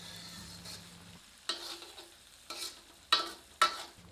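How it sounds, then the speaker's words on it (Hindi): Ginger-garlic paste frying in a pan over medium heat for a stuffed chilli masala, a soft sizzle under several distinct stirring scrapes that come in short bursts, with no talking. "इसे 2 मिनट मध्यम आंच पर भून लेते हैं।"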